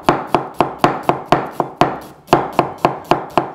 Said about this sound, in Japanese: もうこのようにザクザクと切っていくと、もう簡単に細かいみじん切りになるわけなんです。